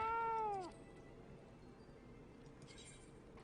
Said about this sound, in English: We have the fatter cat.